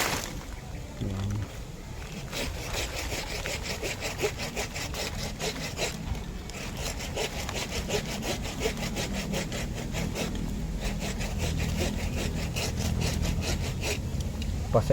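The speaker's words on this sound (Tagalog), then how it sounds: "Kaya lalagariin muna natin sa baba" A hand saw cuts steadily through the trunk of a hibiscus bonsai, with continuous rasping back-and-forth strokes close by and no pauses over the whole stretch.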